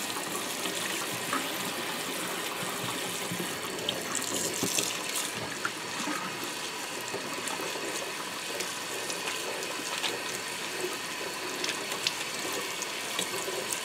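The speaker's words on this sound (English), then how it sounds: "So I like to put cold water on it and just kind of rub it and scrape some of that excess dye out of there" Cold tap water runs over tie-dyed fabric while excess dye is rubbed and scraped out, giving a continuous splashing hiss with small scraping and clicking noises mixed in. The sound is fairly quiet and there is no talk.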